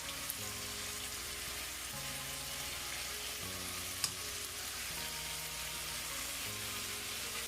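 Shrimp and salmon fry in a pan for jerk shrimp and salmon pasta, giving a steady, close sizzle and crackle with no break and one brief sharp pop partway through.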